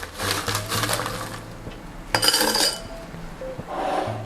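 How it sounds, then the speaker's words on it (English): Ice cubes clatter and clink into 16-ounce glasses in a few busy bursts, with glassy rattles close by and pauses between scoops. "It is time to put them into our 16 ounces glass. So first, fill your glasses with ice."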